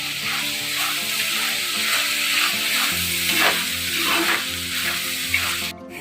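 Sliced onions with a couple of curry leaves sizzle in a pan as the base for a squid roast, a steady close frying crackle over a low background hum with no talking.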